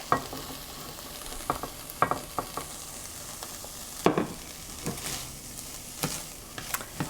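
Garlic sautéing with softened, translucent onions for a vegan chickpea shakshuka: a low sizzle broken by a spoon's stirring scrapes and knocks against the pan, close and without speech.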